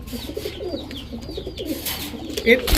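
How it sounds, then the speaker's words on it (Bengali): A male Red Tiger Danish pigeon coos softly in repeated low, throaty phrases, close by, with faint background noise and a brief rustle near the end. "এটা হচ্ছে রেড টাইগার ড্যানিশ একটা নর কবুতর।"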